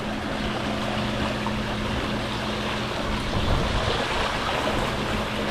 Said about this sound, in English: That makes the jets and blowers harder force coming up.